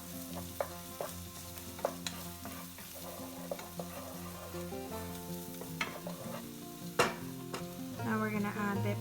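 Garlic fries and is stirred in a pan with a steady sizzle and repeated scraping strokes, over a tonal background hum.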